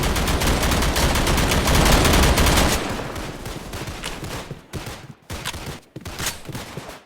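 Sustained automatic fire in a shooter game as a full magazine is emptied, a loud continuous burst that breaks into shorter spaced volleys toward the end.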